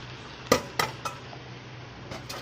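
Washed red lentils tipped into a kadai with fried cauliflower and egg, a few sharp metallic clinks and scrapes of spoon against pan spaced over a quiet background, close and alone.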